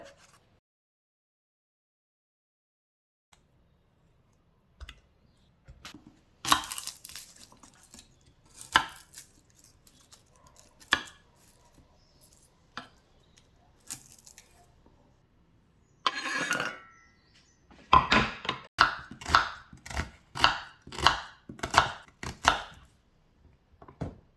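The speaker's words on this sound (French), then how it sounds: "Je vais couper les tomates en deux." A knife cuts tomatoes in half on a board while preparing a vegetarian soup: scattered sharp chops at first, then a dense, rapid run of close, crisp cuts toward the end, with no talking.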